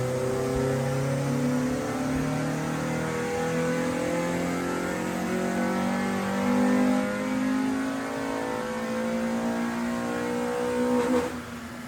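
A Honda D15B SOHC engine in a bracket and grid race car revs on a dyno, holding a loud, steady mid-pitched drone with slowly rising harmonics for about twelve seconds and no talk over it.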